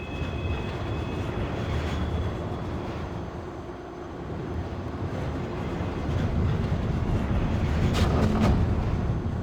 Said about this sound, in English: we hop on the monorail and finally leave Erebus